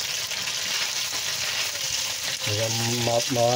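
Pork adobo frying in oil in a pan, a continuous close sizzle and crackle with stirring, while someone speaks over the last second.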